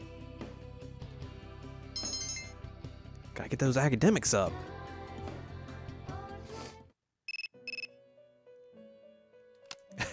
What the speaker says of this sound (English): Your cell phone's ringing